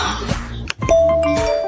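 A two-note ding-dong doorbell chime rings out clearly and alone, the second tone sustained and ringing on for a moment.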